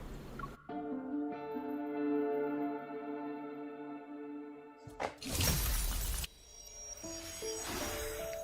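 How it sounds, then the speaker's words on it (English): A protocol cluster shatters in the Love and Deepspace video game: a bright crystalline burst of breaking glass cuts through a sustained shimmering synth drone, followed by lingering tinkling resonance. "As the protocol cluster shatters, a distant tremor ripples through the air."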